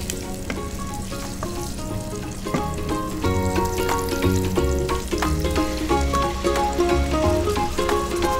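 Sardines fry in a pan with sliced shallots, a loud steady sizzle and crackle that grows denser partway through, with stirring scrapes and no talk.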